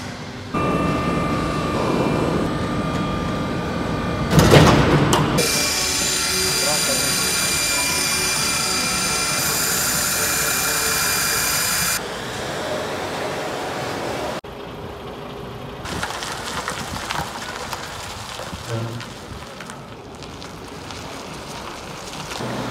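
An aircraft engine runs inside a facade production hall, a loud sustained roar with rising and shifting tonal whine, a sharp burst partway through, then a quieter steady rumble.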